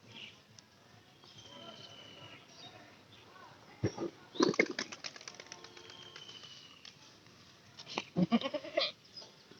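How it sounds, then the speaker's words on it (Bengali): A castrated goat bleats in a farmyard, with soft background noise first and then a burst of loud, wavering bleats near the middle and again near the end, close by. "এটা আমাদের খাসা ছাগল।"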